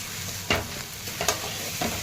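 Potatoes with turmeric are stirred in a hot frying pan, with a constant sizzle broken by three quick scraping strokes of the spoon, close and with no voices.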